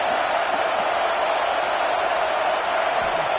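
A packed stadium crowd in a college football video game roars steadily as a dense, continuous wash of cheering noise, loud and unbroken throughout, with no distinct voices.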